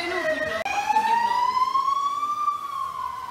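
Fire engine siren in Australia, a loud steady wail rising in pitch and then holding, heard close as the truck passes, with no voices over it.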